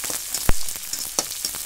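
Onions frying in hot oil as tempering for a dried prawn and eggplant dish, a close crackling sizzle punctuated by a couple of sharp spatula knocks.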